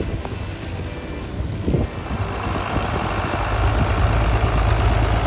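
An Oliver 77 Standard tractor pulls a John Deere medium-frame 44 plow at a plowing contest, its engine drone steady and mid-distance, grinding louder toward the end with a continuous low rumble and some wind noise.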